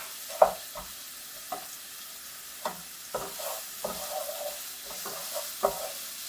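Onions fry in a pan for Guadeloupean djonjon rice, a soft steady sizzle broken by a handful of sharp utensil scrapes and taps, close by with no talking.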